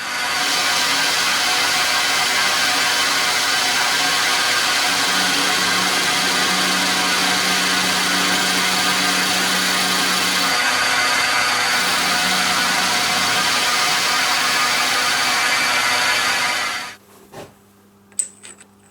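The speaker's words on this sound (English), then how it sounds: "Now I will increase the diameter of this socket or sleeve with a boring bar to suit" A lathe bores out a metal socket sleeve with a boring bar, a steady machining drone with a faint humming tone running for most of the span, then stopping abruptly near the end, leaving a few light clicks.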